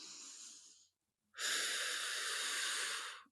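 Two slow, deep breaths up close: a shorter airy exhale fades out, then after a pause a longer, louder rushing breath.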